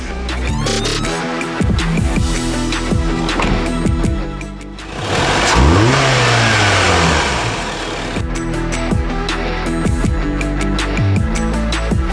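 A 2014 Honda City car driven on a test drive, its engine note rising and falling through revs with a swooping surge near the middle, steady road and engine noise throughout, no talking.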